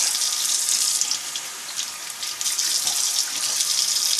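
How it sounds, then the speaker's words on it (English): Tap water runs steadily and loudly into a sink while fingers are rinsed during the cleaning of a squirrel, with a close, continuous splashing hiss and small shifts as the hands move under the stream. "always rinse your fingers off, and you won't end up with a bunch of hair on the squirrel"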